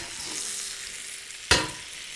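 Duck breast pan-roasting in a pan gives a steady, close sizzle, broken by one sharp scrape or clatter as the meat is turned midway.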